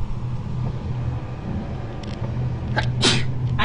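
A single sharp sneeze bursts out near the end, close and fairly loud, over a steady low hum and background noise during a Call of Cthulhu game session.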